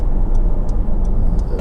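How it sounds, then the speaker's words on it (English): A Honda CR-V 2.2 i-DTEC diesel Black Edition 4x4 engine runs with a steady, close, low rumble, joined by a few faint regular ticks. "But it's just such a civilized engine."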